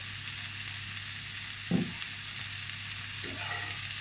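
Sweet potato pieces cook gently in a teaspoon of oil in a pan for a frittata, a soft, even background sizzle with two brief low knocks of the pan, no voices.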